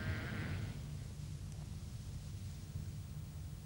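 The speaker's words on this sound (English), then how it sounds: "And these sheep in the dales of Yorkshire." Sheep in the Yorkshire Dales give a single faint bleat at the start, then steady wind-like noise fills the rest with no more calls.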